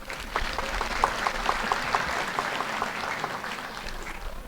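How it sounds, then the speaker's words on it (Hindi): Audience at a Buddha Jayanti sangha-dana ceremony in Gaya applauding, a steady wash of many hands clapping at moderate distance, soft and even throughout. "उनके लिए एक बार तालियां बजाएंगे।"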